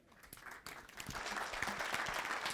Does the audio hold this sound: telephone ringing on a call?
no